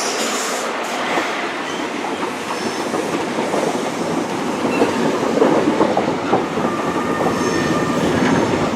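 Great Western Railway Paddington-to-Penzance train led by 43152 rolling into Plymouth station: a continuous close rumble of wagons with clickety-clack wheel beats and brief squeals, steady and loud throughout.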